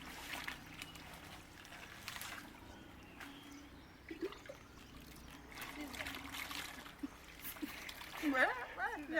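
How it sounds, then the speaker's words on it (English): Water trickles and splashes into a jerrycan outdoors in the Kenyan countryside, a steady pour running under people talking nearby. "So we have to fill the water in the jerrycan like that"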